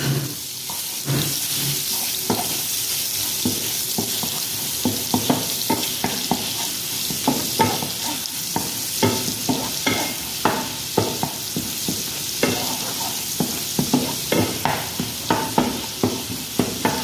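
Garlic fries in very hot butter with a constant loud sizzle, punctuated by repeated sharp scrapes and knocks of a utensil stirring in the pan, with no talking.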